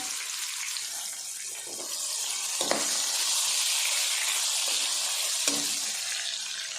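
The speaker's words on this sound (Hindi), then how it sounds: "अब इसमें हम प्याज डाल देते हैं।" Sliced onion fries in hot oil for fish biryani, giving a continuous close sizzle with a few faint stirring scrapes and taps, no voices.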